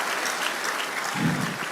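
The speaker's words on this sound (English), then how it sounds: "Mona, clap for him again." An audience claps together at a conference talk, producing dense, even applause that swells slightly toward the end.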